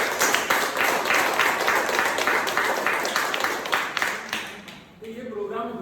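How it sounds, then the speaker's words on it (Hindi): An audience at a talk applauds for the presenter, brisk clapping that lasts about five seconds before fading, followed by someone speaking. "फिर से जोरदार सर के लिए तालियां होनी चाहिए।"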